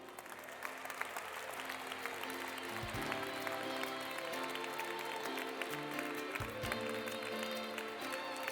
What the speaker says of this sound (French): je pense que toutes ces performances méritent vos chaleureux applaudissements